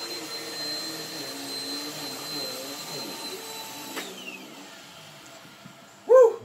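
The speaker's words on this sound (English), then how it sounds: "Busy sa pag-vacuum." A vacuum cleaner runs indoors with a steady whine and hum, then its pitch drops as it shuts down, followed by a brief loud vocal sound at the end.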